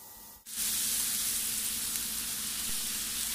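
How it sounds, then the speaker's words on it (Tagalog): Salt and pepper seasoning is stirred into a frying dish of sausage and pepper, where a loud, steady sizzle starts abruptly after a brief pause and keeps hissing, close and unbroken. "Halu-haluin lang natin ito hanggang sa mag-incorporate na ang ating seasoning sa ating niluluto."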